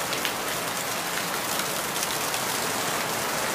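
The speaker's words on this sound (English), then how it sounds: "it rains like this, like a lot" Dense, steady downpour of heavy tropical rain hissing across surfaces, constant and enveloping with no pauses or voices.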